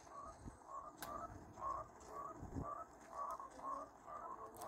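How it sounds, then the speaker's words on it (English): Frogs croak in the game Fortnite, a faint, steady run of short rhythmic croaks repeating about twice a second against a quiet ambient background, with a couple of soft thumps. "Why are there so many frogs?"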